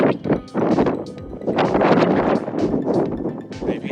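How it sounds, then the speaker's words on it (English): Strong wind buffets an unshielded GoPro microphone on a snowy Snowdonia mountain trail, a loud continuous roar with gusting rumble throughout. "But it is very windy, and I still haven't got my replacement windsock for my GoPro"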